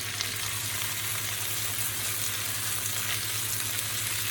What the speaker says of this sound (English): I'm going to start this on a fairly high heat. So stir frying.